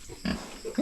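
A pig on a farm gives a few short grunts in under a second, close and fairly loud, with no talking over them.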